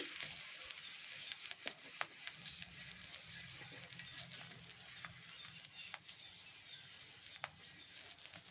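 Village-style aloo paratha frying in a pan with a little oil, a soft steady sizzle with occasional light pops and patters, close and quiet, with no talking.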